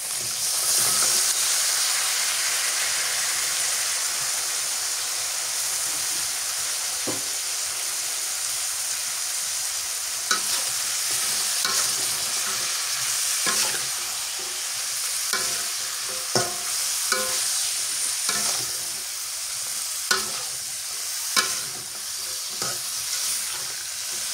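Beans and potatoes with turmeric fry in a pan with a constant close sizzle. A spoon scrapes and stirs now and then, making short clattering strokes, and no one speaks.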